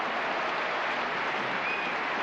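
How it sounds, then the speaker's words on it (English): Continuous applause from a standing stadium crowd at the 1987 Roland Garros women's final, cheering the tennis champions; a brief, even roar of clapping with no voices over it. "applauding these great champions."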